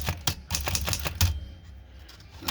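A vintage 1930s Remington typewriter typing in a steady burst of sharp keystrokes. The strikes come close together for the first second and a half, then thin out to a few scattered taps, heard up close with no talking.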